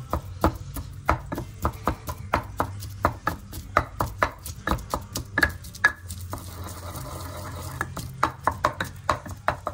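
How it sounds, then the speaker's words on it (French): A pestle crushes clementine citrus with coarse salt in a mortar, making rapid repeated pounding and squishing thuds, close and fairly loud, in an even, brisk rhythm with slight wet crunch. "on va bien écraser ça au pilon"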